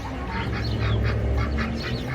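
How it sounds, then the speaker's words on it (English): A flock of ducks quacks in repeated nasal calls while feeding on kitchen scraps outdoors, fairly close over a low background rumble, with no voices. "Let the ducks have some."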